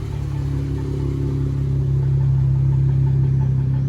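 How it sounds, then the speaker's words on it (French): A Dodge Challenger passing at close range, its steady low engine rumble holding strong throughout and swelling slightly louder toward the end, with no voices heard. "Pour l'instant il y a une Challenger qui passe."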